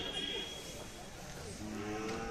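A Kosa Khillar cow at a Khillar cattle show gives a drawn-out, fairly close moo over a noisy outdoor crowd, with people talking in the background.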